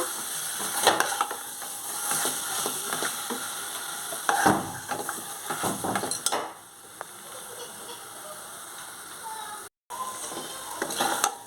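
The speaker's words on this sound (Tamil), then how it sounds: "எண்ணெய்லாம் மேலே மிதக்கிற வரைக்கும் நல்லா வதக்கிட்டே இருக்கணும்" Masala with coriander powder and chicken masala being sautéed and stirred in oil in a pan, giving steady scraping and sizzling with irregular clinks and a brief gap near the end.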